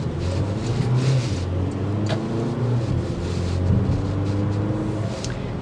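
A 2024 Porsche Macan T accelerating with the turbo spooled up, heard as a steady, fairly loud engine drone with shifting tones, probably from inside the car, with no talking.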